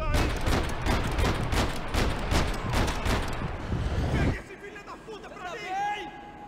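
Rapid bursts of gunfire ring out in the shooter game Max Payne 3, a dense run of repeated shots that abruptly stops, followed by quieter game sounds; a player talks over it.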